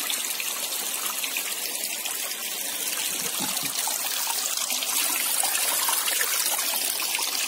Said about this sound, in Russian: Вот бьет водичка.